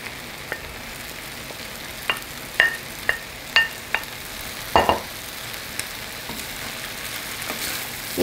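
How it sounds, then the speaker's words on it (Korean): Pad thai ingredients with scrambled egg stir-fried in a pan over high heat, a steady low sizzle broken by scattered clinks and scrapes of the utensil against the pan. "그 다음에 아까 스크램블 만들어 놨던 거 그것도 같이 넣어줄게요"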